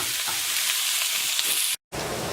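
Onions and mushrooms frying in a pan for chicken marsala give a steady, loud hiss and crackle of sizzling that runs unbroken, cut off once by a short silent gap before resuming.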